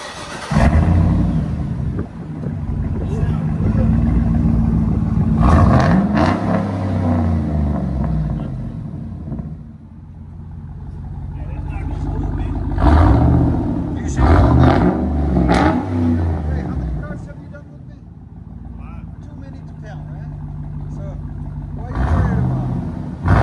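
A GMC Yukon Denali with a 6.2L V8 and a new 5-inch stainless steel exhaust tip, muffler removed, revs in repeated loud bursts rising and falling over a deep idle, close by, with voices talking now and then.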